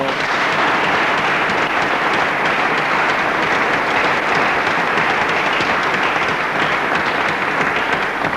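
An audience applauding for a sponsor at a televised music show in Kinshasa, dense, loud, sustained clapping that fills the whole stretch without pause.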